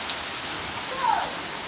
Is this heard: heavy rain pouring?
yes